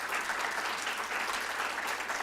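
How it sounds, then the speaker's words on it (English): An audience gives a big round of applause at a youth mental health event, dense, steady clapping that fills the whole stretch without a break. "Give them a big round of applause."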